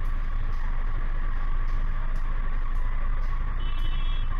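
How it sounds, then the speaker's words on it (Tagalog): Heavy traffic rumbles steadily past at a simulation exercise, with trucks or buses droning low and close, brief hissing bursts and a faint high beeping near the end, continuous and fairly loud. "Ayan, dumadaan na may ibang sasakyan."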